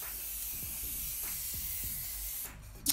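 Hairspray can hissing in a steady, loud, continuous spray for over two seconds, then cutting out abruptly with a brief rattle as the can runs empty.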